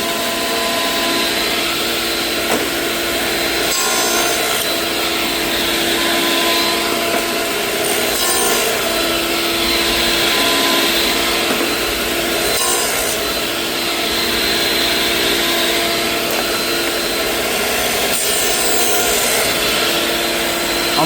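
Saw cutting a dado with the grain in white oak: a loud, continuous rasping drone with a slow, repeating rise and fall as the blade passes back and forth, heard alone.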